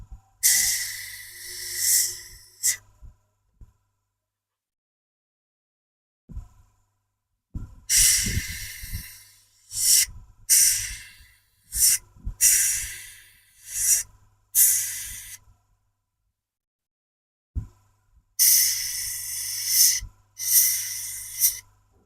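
An airbrush sprays metallic paint onto a Tamiya F-14D model in repeated loud hissing bursts of a second or two each, separated by silent gaps.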